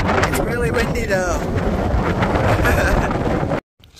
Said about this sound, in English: It's really windy though.